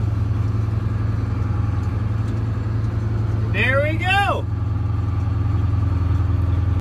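Heavy tractors drone at a steady, loud low pitch while pulling a combine out of deep mud at night, with a brief rising whine as the load shifts and a man exclaiming over the engines.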